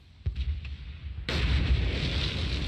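Mortar fire in a combat scene from the TV war drama Generation Kill: a sharp blast at the start with a faint echoing tail, then a loud, sustained roar of explosions and rumbling that fills the rest of the clip.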